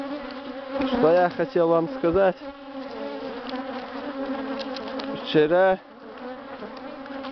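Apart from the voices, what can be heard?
angry swarm of bees buzzing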